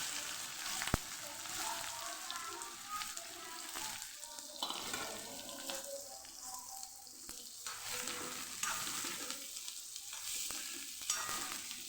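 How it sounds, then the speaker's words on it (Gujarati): Chopped onions sizzle and crackle in hot oil after a pinch of asafoetida, a steady frying hiss with occasional stirring sounds, close by. "જે ડુંગળી સુધારેલી એ પહેલાં આપણે સાતળી લેશું"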